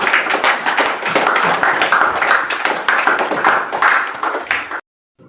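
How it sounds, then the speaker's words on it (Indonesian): Students in a classroom clap their hands together in quick, loud, close bursts for nearly five seconds before stopping abruptly into silence. "Silakan tepuk tangan untuk kita semuanya."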